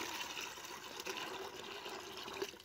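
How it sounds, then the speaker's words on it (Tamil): Water from vegetable kitchen waste being scooped and poured into a separate container, a continuous soft splashing trickle, close and fairly quiet, with no talking. "அந்த தண்ணியை வந்துட்டு மோந்து ஊற்றுறேன், தனியாக ஒரு டப்பாவில் ஊற்றுறேன்"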